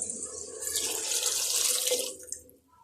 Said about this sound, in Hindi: अब मैं चने की दाल की कटोरी डालने लगी हूँ और साथ ही पानी डाल रही हूँ।